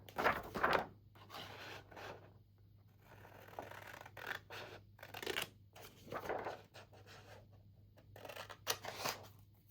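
Scissors snip through paper to cut tea tags, a series of faint, close crisp cuts and rustles spread irregularly over a low steady hum, with no talking.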